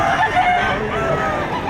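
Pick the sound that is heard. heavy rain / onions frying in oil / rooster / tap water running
rooster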